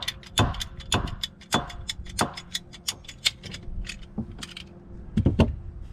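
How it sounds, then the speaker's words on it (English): A ratcheting PVC cutter bites through fuel hose, a close series of sharp, uneven clicks and snaps that speeds up and slows, ending with a few heavier final cuts. "get you a PVC cutter. It'll cut fuel hose with ease."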